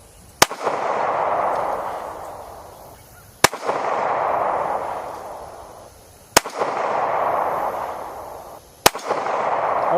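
Gunshots fired at a target at a shooting range: four sharp, loud single reports spaced about three seconds apart, each followed by a long fading rumble of echo.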